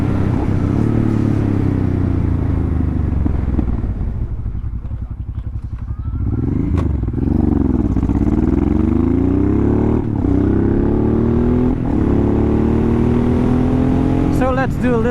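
A Honda Transalp converted to a supermoto, its engine droning loud and close while riding, pitch rising and falling through gear changes with wind buffeting throughout.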